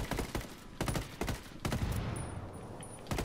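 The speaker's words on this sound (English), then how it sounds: "I'm shooting him through the window." Rapid automatic gunfire from a video game's demolition match, shooting through a house window, comes as several dense bursts separated by short gaps, loud and close throughout.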